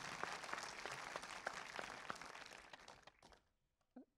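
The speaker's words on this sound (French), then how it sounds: "On peut les applaudir." Audience applause at the youth cinema prize ceremony of the 2025 Royan society film festival: dense, steady clapping for about three seconds that thins and fades out, followed by a brief faint voice.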